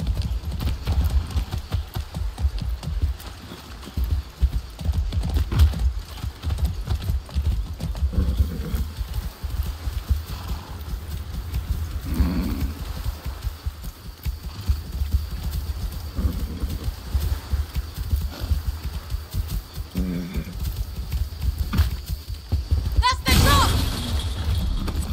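Horse hooves clip-clopping steadily through a Far Cry 6 game scene, a continuous rhythmic gallop under ambient game noise, with someone talking intermittently and a brief shattering burst near the end.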